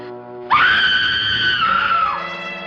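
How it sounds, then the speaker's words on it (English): A loud, sustained scream rings out in a 1942 comedy mystery film scene, starting abruptly and holding a high pitch for about a second and a half before trailing off, with no one talking over it. "Somebody screamed."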